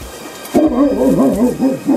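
A pet dog lets out a drawn-out, wavering whine or howl close by, the pitch rising and falling in a loose rhythm for about a second and a half after a brief quiet start.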